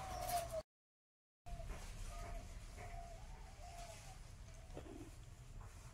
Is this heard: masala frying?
no